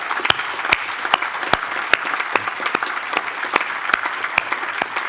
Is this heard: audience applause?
yes